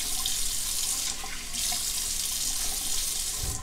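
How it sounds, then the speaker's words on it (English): Hot water runs from a bathroom sink tap while being splashed onto the face before a shave, a steady close hiss of flowing water with a brief dip midway. "Then I will just apply a little bit more hot water. Just splash it on."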